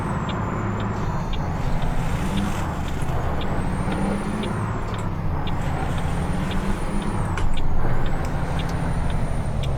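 Air brake on a Freightliner FLB truck in Euro Truck Simulator 2, a hiss over the steady rumble of the engine with faint high electronic tones, with no voices and a brief louder swell near the end.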